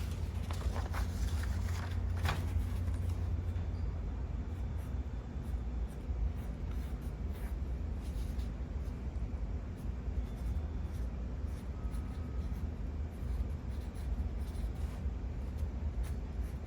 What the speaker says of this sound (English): let me write on here and see what we got